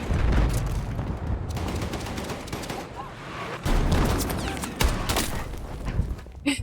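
Sniper rifle shots crack through a video game battle amid a dense fusillade of other gunfire and booms, loud and continuous, with a player's voice talking over the action.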